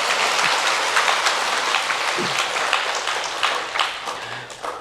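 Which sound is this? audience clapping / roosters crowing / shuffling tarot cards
audience clapping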